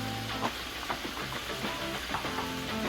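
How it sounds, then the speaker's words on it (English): Peppers and onions frying in a pan, a steady close sizzle with small crackles and pops running throughout, no talking. "I'm gonna throw some peppers and onions in here"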